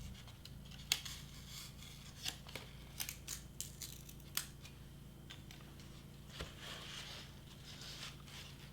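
Quiet, scattered snips and soft rustles of scissors trimming a craft party prop flame cutout, a handful of crisp cuts spaced irregularly over a low steady room hum.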